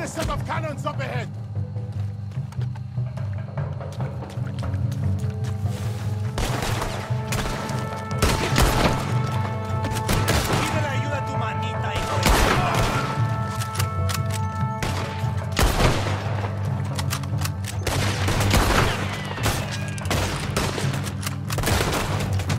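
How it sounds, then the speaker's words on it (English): Cannon fire during a Red Dead Redemption 2 gameplay battle, with repeated loud booms and crashing blasts scattered irregularly through the scene under ongoing speech and constant background action. "Another set of cannons up ahead!"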